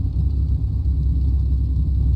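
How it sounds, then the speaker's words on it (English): Flight Replicas P-40N Warhawk engine in a flight simulator, throttled back to idle: a steady, loud low rumble with a faint uneven pulse, continuous and alone for a couple of seconds. "Going all the way back to idle on the throttle."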